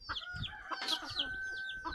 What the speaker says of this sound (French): Donc là c'est mon coq soie fauve.